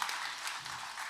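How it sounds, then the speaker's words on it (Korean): A church congregation at a children's Sunday service gives a brief burst of applause, the clapping even and moderately distant. "어린 친구들에게 먼저 격려하는 박수 한번 힘있게 주시기 바랍니다"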